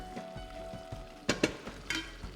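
Fresh tomatoes frying in a pan for Indian tomato rice, a soft continuous sizzle broken by a few sharper crackles and stirring scrapes, close and fairly quiet, with no talk.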